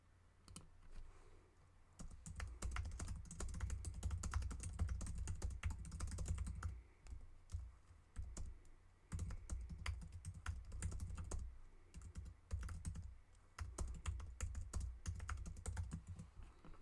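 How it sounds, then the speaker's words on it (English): A computer keyboard right beside the microphone clatters with steady bursts of close, crisp typing, broken by brief pauses between runs of keystrokes. "Just realised my keyboard's right next to the mic, so all you're hearing is tippy tapping."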